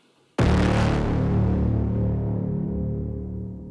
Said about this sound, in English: So that is the first pass of the source bass line.